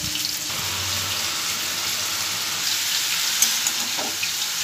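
Ash gourd cooking in a pan with salt and turmeric, a steady, fairly loud hiss of frying moisture running throughout with a faint knock or two of stirring.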